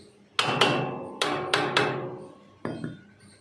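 Hammer tapping on a chain to tighten it on farm equipment: five sharp metallic strikes in two quick clusters, then two more after a pause, each ringing briefly, close and loud with no talking.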